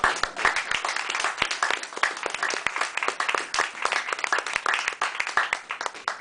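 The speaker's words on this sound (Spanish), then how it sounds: "Así que pido un aplauso por esto." Audience at a literary and arts café evening applauds, many distinct claps forming a lively, uneven round that lasts several seconds at moderate volume.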